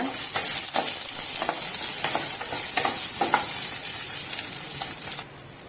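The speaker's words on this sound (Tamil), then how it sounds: "சின்ன வெங்காயத்தை சேர்த்துக்கலாங்க அதுவும் நல்லா கலந்து கொடுங்க" Shallots being stirred into a coconut-milk manathakkali keerai kootu in a pan, with a steady sizzle and repeated scraping strokes of the spoon over nearly six seconds, fairly close, no talking.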